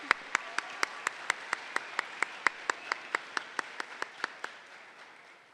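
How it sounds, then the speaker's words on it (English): An audience at the opening session of a state FFA leadership conference claps for state officer candidates, with sharp, evenly spaced claps in a fairly quiet hall that fade out over several seconds. "Let's give our state officer candidates one more round of applause"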